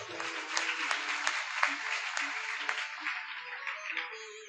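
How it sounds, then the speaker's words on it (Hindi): A large audience applauds warmly for Maharaj ji at a Shiv Mahapuran katha held at a grain market. The clapping is dense and sustained, holding at a full level for several seconds before easing slightly. "महाराज जी के लिए तालियों द्वारा जोरदार स्वागत।"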